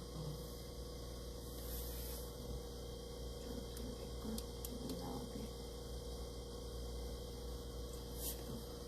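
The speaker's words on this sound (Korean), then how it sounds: "세탁, 그리고 냉장고 소리 너무 커요, 여기." A washing machine and refrigerator run together indoors, giving a loud, steady appliance hum with a constant low drone and faint hiss that continues unbroken throughout, with no talking.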